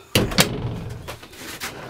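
A door on a boat being swung and knocked shut, two sharp thuds close together near the start, then a softer rattle and low hollow rumble as it settles.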